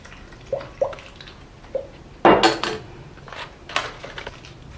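Water draining from the bottom of a freshly watered potted ficus into a watering bowl, scattered drips and splashes, with a louder splashing gush midway and a few later trickles, close by.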